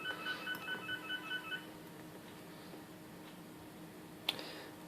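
A telephone rings in a quiet workshop with a rapid, repeating electronic trill of short pulses for about a second and a half. It then stops, and a faint tick follows.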